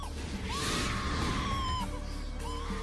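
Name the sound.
woman screaming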